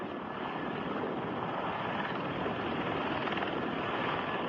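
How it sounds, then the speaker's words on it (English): Steady broadband rotor and engine roar of a Ka-50 Black Shark helicopter gunship flying over a bridge near Moscow, continuous and unchanging in loudness, with no voices. "pilot Alexander Velovich and his Ka-50 Black Shark helicopter"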